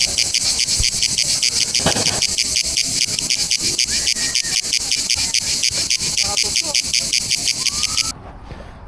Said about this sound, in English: The noisy cicada.